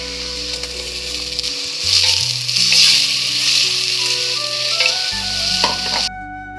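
Green chillies and tomato, with onions, frying in a pan, a steady close sizzle and hiss with some stirring, under background music.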